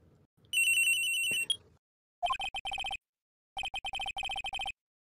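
A cell phone rings in the courtroom game Phoenix Wright: Ace Attorney, first a sustained electronic tone, then two bursts of rapid, trilling chirped beeps separated by a short silence, clear and close with no voices.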